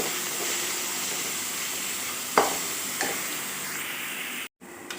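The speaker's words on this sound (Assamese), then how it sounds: "মই এতিয়া আদা নহৰু ভাজা হৈছে" Ginger and garlic frying in a pan for a pumpkin and fish curry, a continuous close hiss of sizzling oil with a couple of sharp utensil knocks and a brief cut near the end.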